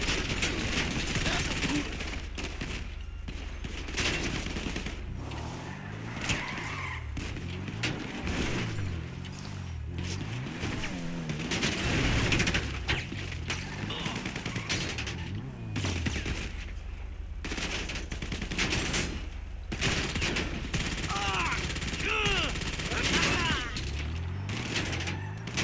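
Gunfire in GTA 5 Online crackles in dense, continuous bursts over a rumbling vehicle drone, with rapid automatic shots overlapping throughout and a voice talking underneath.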